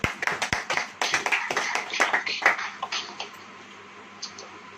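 A church congregation claps in response to a Hindi sermon: a burst of irregular, overlapping handclaps that starts loud and close, then thins into scattered claps and fades away.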